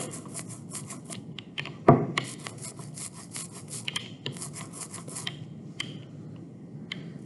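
Ink roller pushed back and forth over a lithography plate, a series of soft rhythmic rubbing and sticky tacky passes, close and quiet, with one brief knock partway through.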